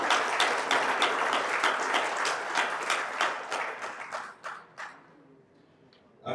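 An audience at a tournament kickoff in Accra applauds with dense, loud clapping that thins and fades out over the last couple of seconds.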